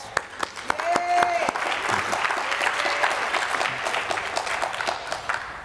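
Sustained applause from an audience at a school district event, steady and fairly loud for several seconds, with some voices and a whoop mixed in.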